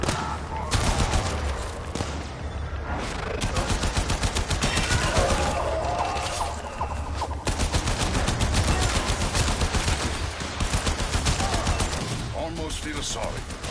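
Rapid automatic gunfire fills a Warframe firefight, with dense, overlapping bursts of shots continuing almost without pause, loud and close, alongside other game effects.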